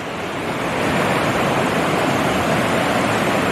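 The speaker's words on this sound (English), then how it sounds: "So here's that river. It's pretty raging and looks kind of deep" A raging, deep river on Mount Rainier's Northern Loop rushes past in a loud, continuous roar of water that swells slightly at the start and then holds steady, with no voices.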